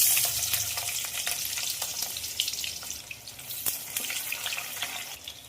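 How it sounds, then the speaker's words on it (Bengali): Black cumin seeds and onion hit leftover fish-frying oil for a pabda fish curry, producing a faint, soft sizzle with scattered small pops and crackles throughout. "মাছ ভাজা তেলের মধ্যে দিয়ে দেবো কালো জিরে ফোড়ন, দিয়ে দিলাম পেঁয়াজ"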